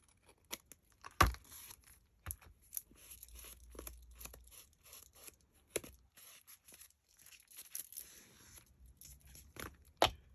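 Scissors snipping paper while trimming a trifold tag booklet, a series of short, sharp crunchy cuts and tearing sounds with brief pauses between them, close and fairly quiet, with no talking.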